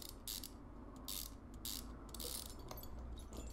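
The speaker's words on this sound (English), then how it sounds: "Just be quiet and listen to the screws going in." Screws being driven in by a ratchet in the Car Mechanic Simulator 2015 game, with repeated bursts of bright mechanical ratcheting clicks in a steady rhythm, close and fairly loud, with no talk.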